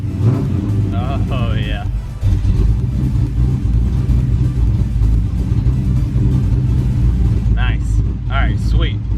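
A carbureted Ford Mustang SN95 engine cranks and catches, then settles into a loud, steady low rumble that runs close and continuous, with brief talk over it near the start and again near the end.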